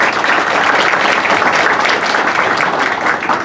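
Sustained applause from a public hearing audience in Brazil, dense and steady clapping from a full room at close range, loud and unbroken throughout, with no voices rising above it.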